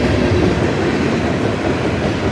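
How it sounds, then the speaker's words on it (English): A train rolls steadily past, loud and continuous, with a rushing rumble and faint clatter of wheels on rails and no voices. "At least they actually have trains here."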